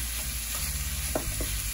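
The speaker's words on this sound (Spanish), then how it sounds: "Vamos a agregar en un ladito la carne. La agregamos para que se empiece a dorar" Beef is browning in a pan beside par-cooked potatoes, a steady close sizzle and frying hiss that runs throughout with no talking.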